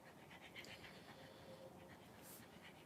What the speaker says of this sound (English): it's actually Lola that's panting right now